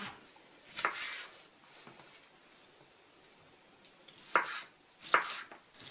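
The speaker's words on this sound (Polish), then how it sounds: "Teraz przygotuję paprykę. Pokroję ją też na paseczki." A knife cuts a bell pepper into strips on a board, three or four crisp, separate chops spaced a second or so apart over a quiet background.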